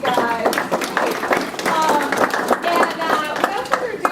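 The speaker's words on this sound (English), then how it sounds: "So before we get started, just a round of applause for these guys." An audience applauds a sports alumni panel with scattered clapping and crowd noise, while voices carry on over the claps.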